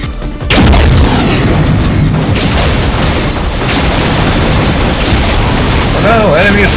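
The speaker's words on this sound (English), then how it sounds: "Oh no, enemies with dispersion pistols." Loud energy blasts from dispersion pistols in the multiplayer video game Unreal, a sharp burst at the start followed by sustained booming, crackling weapon noise.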